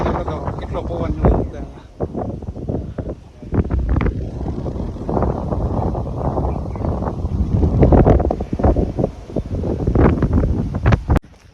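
Gusty hilltop wind buffets the microphone in uneven surges, loud and constant, with someone speaking underneath the rushing noise.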